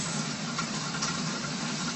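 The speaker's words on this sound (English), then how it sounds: "It's rain sound." Rain falls in a steady, even hiss, a continuous wash of noise that stays constant throughout.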